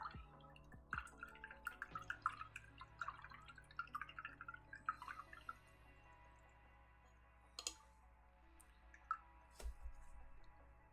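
Water drips and clicks inside a Cafe Bustelo coffee can, with scattered small taps and splashes close by. The sounds are quiet and irregular, thinning out partway through before a few louder drips.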